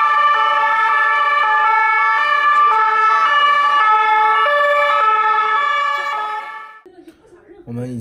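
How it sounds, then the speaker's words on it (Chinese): A row of police cars in Paris sounds their sirens, a loud, close, steady wailing tone that holds for several seconds before fading and giving way to other street noise. "这一排警车。"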